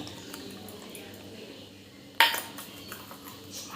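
Lotus root, potato and chana dal go into a pressure cooker, landing with a single sharp metallic clatter partway through after a stretch of quiet kitchen background.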